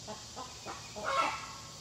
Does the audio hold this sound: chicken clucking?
yes